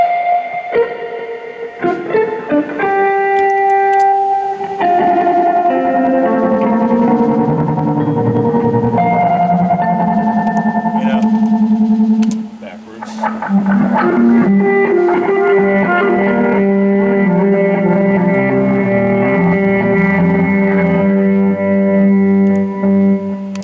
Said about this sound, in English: Big reverb.